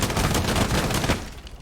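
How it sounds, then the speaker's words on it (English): Muffled gunfire punching through a wall in Rainbow Six Siege, a dense run of close, loud shots over a low rumble before it tapers off near the end. "There goes Maestro with a nice wall bang."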